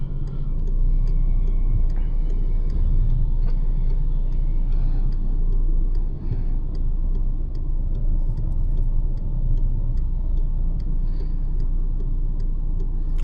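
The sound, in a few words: car turn signal ticking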